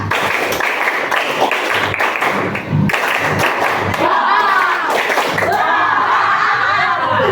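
Students at a junior high school in Tanjungkarang do the Tepuk Indonesia clapping chant, with a steady run of group claps mixed with voices and some laughter throughout.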